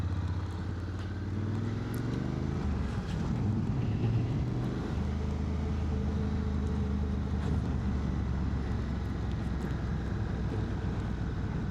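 Honda X-ADV 750 scooter rolling downhill in second gear, a continuous low engine drone with wind rush, steady and close throughout.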